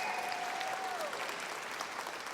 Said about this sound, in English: Stephanie, a round of applause for Stephanie for emceeing the event, please